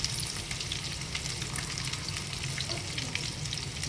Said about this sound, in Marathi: 5 मिनटात आपलं ते फ्राय होऊन जातं